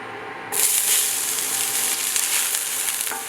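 Onions hitting a pan preheated to medium heat burst into a loud, steady sizzle after a brief quiet start, frying continuously up close with faint stirring crackles.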